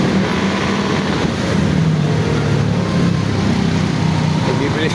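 Road traffic passes along Tejero road, a continuous roar of engines and tire noise with wind buffeting the microphone, while a person talks over it.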